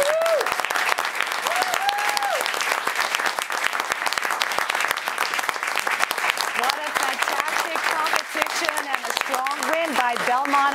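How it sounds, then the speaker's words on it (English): Sustained applause from the audience for two finalist teams at a national high school economics competition in New York City, dense clapping with cheers and shouts rising over it, continuing throughout. "let's have a final round of applause for both of our finalist teams"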